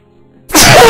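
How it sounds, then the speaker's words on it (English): A single loud, rough human sneeze bursts out halfway through, following near silence, and stays sharp and close-miked to the end. "that was a rough sneeze"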